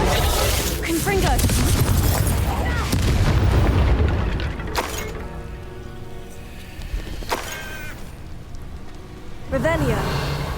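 Confringo spell explosions in the Hogwarts Legacy video game, heavy booming blasts that come in bursts and sharp hits, with a voice calling out over the combat.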